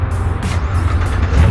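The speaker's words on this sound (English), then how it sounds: "There goes a Fox body." A Fox body Ford Mustang drives past while leaving a muscle car meet, its low engine rumble steady and close, with a slight swell at the end.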